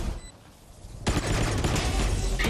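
Rapid gunfire erupts in a Valorant esports match after a quiet moment, a loud, sustained burst of overlapping shots that keeps going to the end.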